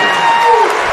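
A college basketball crowd at an Illinois Wesleyan versus Millikin men's game roars and applauds after a dunk, a brief, loud wash of cheering from a packed gym.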